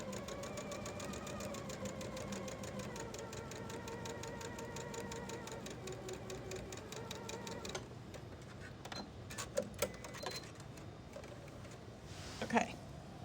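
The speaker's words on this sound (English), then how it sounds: "and I'm going to sew." A sewing machine stitches a quarter-inch seam in a fast, even mechanical rattle for about eight seconds, then stops, followed by a few soft clicks and handling noises.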